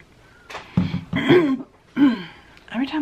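A person clears their throat close by, four throaty, voiced bursts spaced about half a second apart with short pauses between them.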